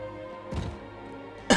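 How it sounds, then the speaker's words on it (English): A person clears their throat with a short rough burst, followed by a second, louder harsh cough-like rasp at the very end over a steady low background hum. "Sorry, I just gotta clear my throat here."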